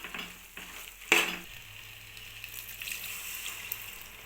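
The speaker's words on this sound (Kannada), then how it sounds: "ಮಸಾಲ ಚೆನ್ನಾಗಿ ಮಿಕ್ಸ್ ಮಾಡಿ ಫ್ರೈ ಮಾಡೋಕ್ಕಿಡೋಣ" Ground masala frying in a pan for buttermilk sambar, a quiet low sizzle with a brief sharp stir or clatter near the start and faint background hum.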